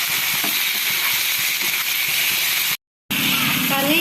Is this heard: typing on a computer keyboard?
no